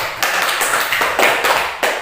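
Grade 5 schoolchildren clapping in a classroom, with a handful of sharp, separate claps in a loose rhythm, close and fairly loud.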